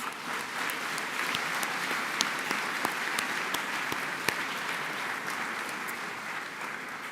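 A large audience at a college commencement ceremony claps steadily, a dense wash of applause with a few sharper individual claps standing out, sustained for several seconds.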